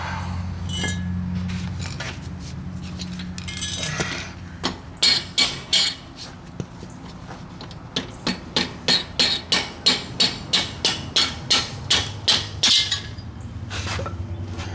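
A hammer tapping pistons loose from a Volkswagen Bus engine during teardown, a run of sharp metallic clinks in a quickening regular rhythm after a few scattered knocks, close and loud.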